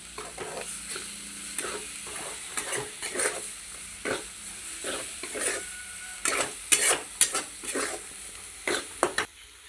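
A ground paste of roasted onion and tomato cooks in a pan for paneer curry, a soft sizzle broken by repeated scraping strokes of a spoon stirring it, close and irregular, growing busier toward the end, with no voices.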